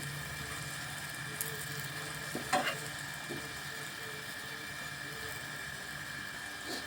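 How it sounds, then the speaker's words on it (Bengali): Paratha sizzling steadily in a pan over a low gas flame, a soft continuous fry with a few brief scrapes and presses of a spatula partway through. "ভালো করে একটু চেপে চেপে বেজে নিচ্ছি যাতে করে ভিতরটা কাঁচা না থাকে"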